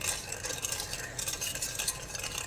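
Yeast is stirred into bagel dough mixture in a bowl, making soft, wet, rhythmic scraping and swishing sounds up close with no talking.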